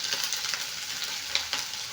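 Vegetables sizzling and spitting in coconut oil in a pan, a steady close frying crackle with small pops and occasional stirring.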